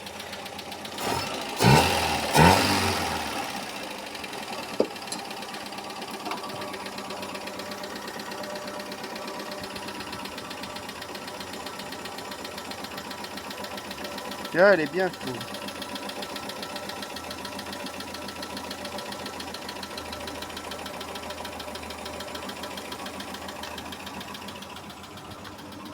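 A Peugeot 404 engine idles steadily after a restart, a continuous low mechanical hum with faint ticking, preceded by a few louder clunks at the start and one brief knock partway through; a voice speaks briefly.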